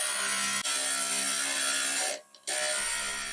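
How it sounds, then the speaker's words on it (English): A stained glass grinder fitted with a 3/4 inch quick fit bit grinds a glass edge, a loud, steady high whine with gritty texture, briefly dropping away for a moment before resuming. "Then I'll use the grinder fitted with a 3/4 inch quick fit bit"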